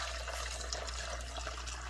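Homemade chicken soup, cooked down over several hours on the stove, is poured into a smaller bowl, giving a steady, continuous liquid stream close by with no talk.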